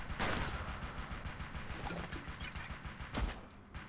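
An enemy machine gun fires in the video game Gun, faint, rapid bursts of gunfire with a couple of sharper shots standing out over the steady rattle.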